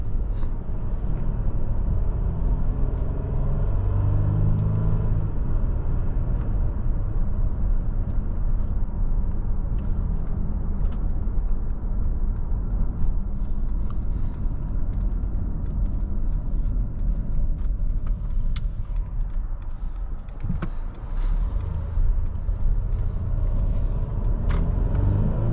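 A 2023 Mercedes-Benz GLC 300 4MATIC Coupe accelerates on the road, its engine and road rumble holding loud and steady from inside the cabin throughout.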